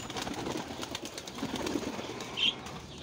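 Farm pigeons or doves coo softly amid a steady rustle, with a brief flutter of wings near the end, heard fairly close.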